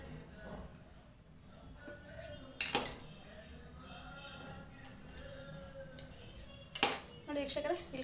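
Kachori dough being cut with a metal utensil, giving two sharp clinks against a plate or pan amid quieter scraping and handling noises in a kitchen, with faint background voice.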